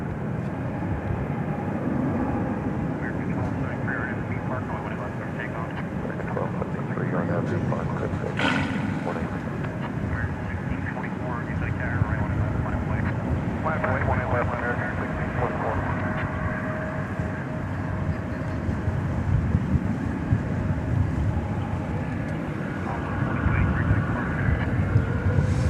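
An American Eagle regional airliner on a night departure from a DFW Airport runway, bound for Midland, Texas, gives a steady, broad engine roar that holds for the whole stretch, with faint voices underneath.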